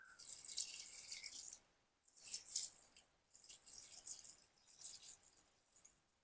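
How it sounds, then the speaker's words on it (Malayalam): Water poured from a vessel into a cooking pot on a kitchen counter, a splashing, trickling pour in two or three bursts with a short pause between them, close and fairly faint. "ഇനി നമുക്ക് ഇതിനകത്ത് ആവശ്യമായ വെള്ളം ഒഴിക്കാം."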